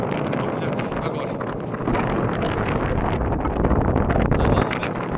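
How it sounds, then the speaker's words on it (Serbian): Strong mountain wind roars and buffets the microphone on the slopes toward Dupljak peak at 2032 m, a loud, unbroken gusting rush that swells slightly stronger toward the end. "Na ovom mestu vetar šiba kao u sred zime"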